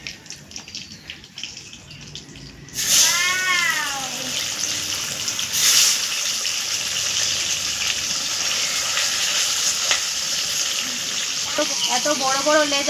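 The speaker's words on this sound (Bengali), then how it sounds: "বাকি মাছগুলো আমি এভাবে ভেজে নেব।" Katla fish frying in hot oil with turmeric in a kadai, a steady loud sizzle running throughout with brief spattering bursts, after a quieter start; faint voice sounds also appear.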